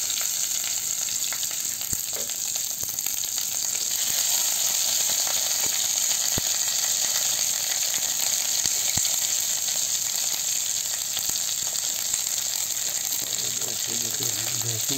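Onions frying in hot oil in a pan of spiced tempering for a vegetable curry, a steady close broadband sizzle with scattered crackles and occasional spoon clicks, no talking.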